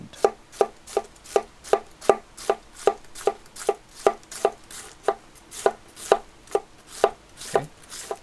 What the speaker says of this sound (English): I tend to like thrust cuts when I cut my vegetables.